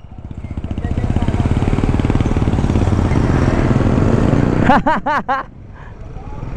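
A motorcycle engine idles steadily close by, a low continuous throb that runs throughout, while a few voices speak briefly near the end.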